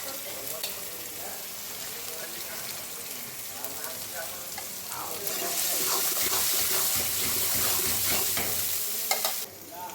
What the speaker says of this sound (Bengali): রসুন একটু বাজা বাজা হোক মাছটা রাখছি